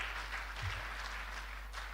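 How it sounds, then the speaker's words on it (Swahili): A church congregation applauding at a Sunday covenant renewal service: a faint, steady wash of clapping that sounds distant and continues for the whole two seconds. "pigeni makofi tena"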